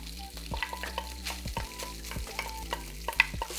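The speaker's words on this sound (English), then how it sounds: "We're gonna take our rice alternative and throw it in the pan." A rice alternative fries in olive oil in a nonstick pan for a lemon risotto, a low sizzle broken by repeated scraping and clicking stirring strokes, close and without talk.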